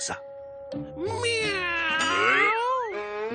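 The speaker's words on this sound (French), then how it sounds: "Il a fait miaou, alors c'est un chat." A cartoon cat from Garfield & Cie gives one long, drawn-out meow that rises and wavers in pitch, following a brief spoken word.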